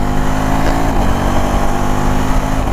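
A 2025 KTM 390 Adventure motorcycle cruising on a highway at 7000 RPM, a loud, steady engine drone with a strong harmonic hum and constant wind rush, no speech.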